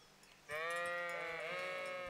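A sheep in the video game Kingdom Come: Deliverance lets out a single loud, sustained bleat that starts abruptly and wavers for over a second, close up with no talking.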